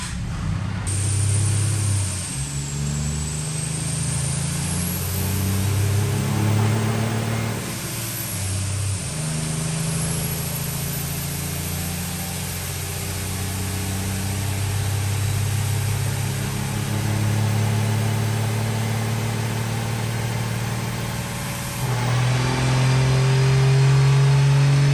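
A 1400 horsepower diesel truck with an HE351 turbo and nitrous revs hard and loud, engine roaring up and down through long pulls with a high turbo whistle on top, then settling before climbing again.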